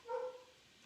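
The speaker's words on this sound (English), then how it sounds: "There goes the dogs. I don't know what they're barking at." Dogs bark once, faint and distant, from outside, followed by quiet with no one talking.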